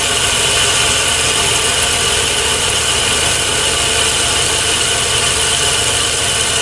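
A metal lathe takes a roughing cut on a diameter, giving a continuous loud, steady machine drone with a broad hiss and hum that holds unchanged throughout, with no voices.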